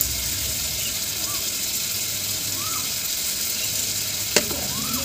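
Tomato and ginger paste fry in a pan with a steady, even sizzle and hiss. Faint chirps rise over it, and a single sharp knock sounds near the end.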